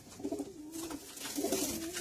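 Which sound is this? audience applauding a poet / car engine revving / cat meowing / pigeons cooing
pigeons cooing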